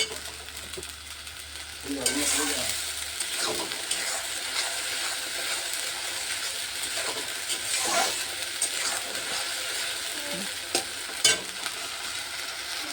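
Food fries in a pan in a home kitchen, with a steady soft sizzle and occasional scraping stirs, fairly quiet and with no speech.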